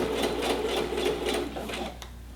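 A sewing machine stitching a set-in sleeve runs in a steady, rapid pulse of stitches for about two seconds, then stops with a small click.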